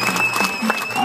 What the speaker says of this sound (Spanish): Gracias por los aplausos, amigos.